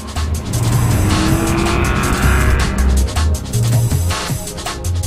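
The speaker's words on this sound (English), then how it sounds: "driven around the course in the Aston Martin" An Aston Martin sports car drives hard around a track, its loud engine roaring continuously for about five seconds with a brief tyre squeal, heard up close.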